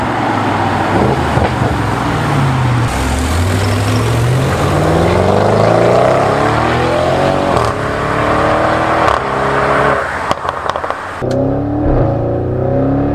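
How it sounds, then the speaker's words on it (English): A 730 bhp Audi RS6 with a Miltech exhaust revs loudly up close, the engine note repeatedly rising and falling through gear changes, with sharp cracks and pops on the downshifts near the end. "driving this car, the pops, the bangs with the Miltech exhaust, the downshifts are brutal."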